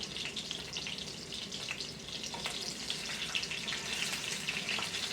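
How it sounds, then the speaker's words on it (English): Chopped steak fries in a pan with a steady, faint crackling sizzle, dense with tiny pops and spits running throughout, close and with no talking. "Fry this baby up and see what she's like."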